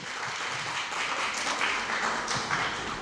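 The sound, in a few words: audience applause for the show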